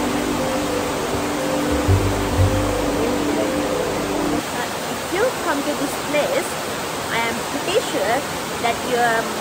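The Bogoda River, beneath the wooden bridge in Badulla District, Sri Lanka, rushes in a loud, steady broadband roar that continues throughout, with faint brief sounds over the flowing water.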